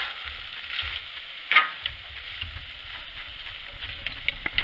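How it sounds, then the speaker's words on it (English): Onions on a grill stirred with tongs during a pork chop cook, a steady high sizzle with a few sharp metallic clicks and scrapes from the tongs, moderately close, no talk. "just a quick stir with our tongs here"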